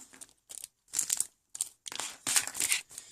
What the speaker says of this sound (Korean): 이렇게 잠시 여기 옆에 비닐에다가 올려놓고